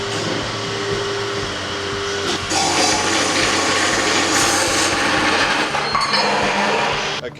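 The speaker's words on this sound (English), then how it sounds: "so I just cut one of those posts, as you saw before on the drop saw" Drop saw with an attached vise cutting through a RolaCase frame post, a loud, steady broadband whine running the whole time and shifting in pitch as the blade bites, with a harsh clink near the start.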